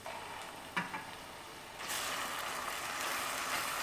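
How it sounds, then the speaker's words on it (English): Thai green curry paste with tofu hitting a hot pan, a couple of faint clicks, then a sudden steady sizzle that holds to the end, close and moderately loud. "now we're going to add the curry paste"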